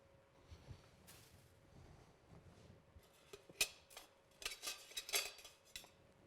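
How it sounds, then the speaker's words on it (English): A metal utensil scrapes and clinks against a metal loaf pan of spiced meat loaf as it is lifted, a few sharp close metallic taps and scrapes after a quiet start. "I'm going to remove one glove just so I can grab a tool to help lift the loaf pan."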